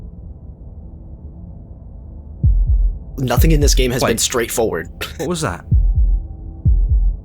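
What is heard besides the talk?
heartbeat sound in the video game Slay the Princess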